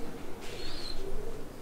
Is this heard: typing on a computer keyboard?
no